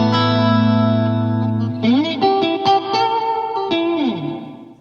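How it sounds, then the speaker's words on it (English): An electric guitar played through a room reverb with a short slapback echo sustains a low chord, then slides up into bending lead notes that ring out with a roomy tail. "next we have a nice room reverb with a little bit of slapback."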